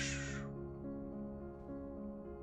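A bird creature in the No Man's Sky video game gives a short, raspy caw at the start, followed by a faint, low, droning ambience.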